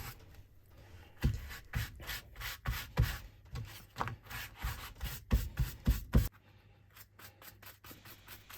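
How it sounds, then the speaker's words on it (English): A brush scuffs black shoe polish onto a 3D printed Freddy Krueger glove in quick, irregular rubbing strokes, close and fairly quiet. The bursts pause near the end and no one speaks. "Using a brush, scuff on black shoe polish to add darker areas where the dirt and grease would accumulate on the glove"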